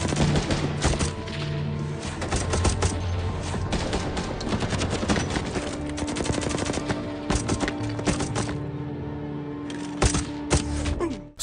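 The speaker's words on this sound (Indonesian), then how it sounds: "Mendengar suara tembakan itu, Samidi bergegas menghubungi bala bantuan yang lebih banyak lagi." Gunfire in a film action scene, dense rapid bursts of machine-gun shots and scattered single shots, loud and near, continuing almost without pause.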